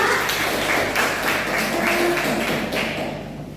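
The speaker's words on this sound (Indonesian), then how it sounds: "Tepuk tangan untuk kelompok 3." Biology classmates applauding group 3 after its presentation, brisk close clapping with rhythmic taps throughout, fading slightly at the end.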